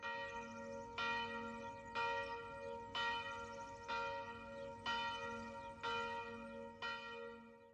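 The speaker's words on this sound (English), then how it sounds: "we woke up to church bells in the town of Montefalco" Church bells ringing in the hilltop town of Montefalco in Umbria, Italy, a slow steady peal of about eight resonant strokes roughly one second apart, sounding somewhat distant and soft.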